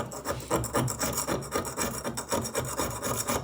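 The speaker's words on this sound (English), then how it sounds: "Let me grind into this a bit." Steel on a recreated combat knife blade is ground by hand in quick, rhythmic rasping strokes, each a close, gritty scrape repeating evenly with no voices.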